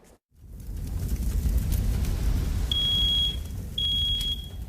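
A smoke alarm emits a steady high-pitched tone, cutting off briefly before resuming, over a low continuous rumble.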